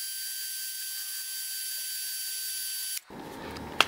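A power drill spins a hone inside a drum brake wheel cylinder with a steady, high-pitched whine, then stops abruptly, leaving a quiet low rumble and a small click.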